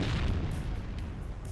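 A continuous deep rumbling roar of an explosion in the video game WARNO, loud and sustained with low booming energy throughout.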